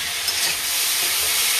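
Curry spices with cumin powder and a pinch of sugar sizzle and fry steadily in a pan while being stirred, a continuous close hiss with no talking.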